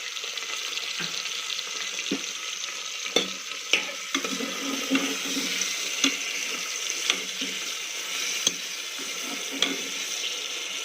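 Chopped tomatoes sizzle and fry in a pan for a Gujarati dana muthiya vegetable dish, a steady close hiss broken by light stirring clinks and taps, with no talking.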